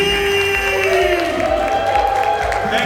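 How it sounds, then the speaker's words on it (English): Crowd at a charity auction cheering and applauding for the auctioneer, a dense burst of claps, whoops and shouts over a sustained voice or tone, loud and close. "a huge round of applause for your auctioneer"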